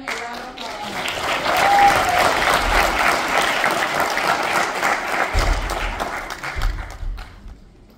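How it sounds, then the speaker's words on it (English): An audience applauds before a school stage performance, sustained dense clapping that swells and holds for several seconds, with some low thumps toward the end as it fades. "Please give them a round of applause."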